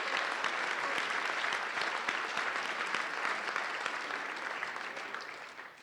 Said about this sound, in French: Je crois qu'il mérite quelques applaudissements.